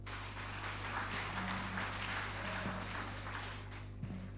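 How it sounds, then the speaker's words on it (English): An audience at a national MSME conference applauds in a large hall, a steady patter of clapping held at moderate distance under a low electrical hum. "Please, a round of applause for her."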